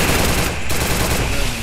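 Dense rapid gunfire from Garena Free Fire, a continuous loud burst of automatic shots filling the short moment with no pause.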